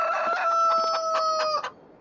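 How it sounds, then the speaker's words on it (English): A rooster in the Farming Simulator 23 video game gives one loud, close crow: a drawn-out, tonal cock-a-doodle-doo that holds for about a second and a half, then breaks off, heard alone. "the rooster is already saying hello"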